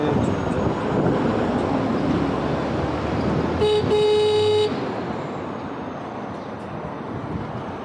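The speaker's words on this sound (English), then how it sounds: "Always use your horn, always." A single sustained car horn blast, about a second long, cuts through steady traffic rumble on city streets in Shenzhen, China.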